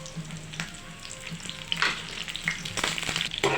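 Mustard seeds with urad and chana dal, garlic and curry leaves sizzling and crackling in hot oil, a steady close frying hiss with occasional pops and stirring, no talk.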